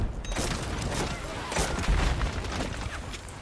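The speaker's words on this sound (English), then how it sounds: "First time I've been killed by mortar." A battlefield din in a modern military shooter with a mortar blast, rumbling low impacts and scattered shots, with a heavier thud near the two-second mark and a voice speaking faintly underneath.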